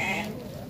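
Sheep and lambs bleat at a livestock sale in Dois Riachos, Alagoas, a brief close bleat over a noisy outdoor background.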